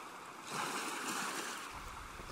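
Sea waves rolling in, a soft rushing surge that swells and then eases back, moderately loud and continuous with a low rumble underneath, no voices.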